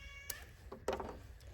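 A cat meows twice close by in a home garage during engine work on a 3.6 Pentastar, a short first cry followed by a longer, louder meow over a faint background hum.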